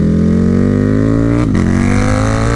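A KTM Superduke 1290R motorcycle engine roars loud and close, pitch climbing steadily as it accelerates, with a brief dip mid-way like a quick gear shift before it keeps pulling.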